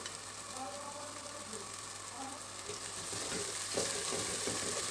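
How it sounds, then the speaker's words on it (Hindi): Ginger garlic paste frying with softened onions in a pan, a steady sizzle with soft stirring scrapes and a slight rise in intensity toward the end. "अब मैं इसमें 2 चम्मच अदरक लहसुन का पेस्ट डालूँगी।"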